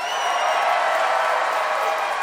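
Audience at a comedy debate show applauding and cheering a contestant, a dense, loud, steady wash of clapping and whoops filling the whole short moment.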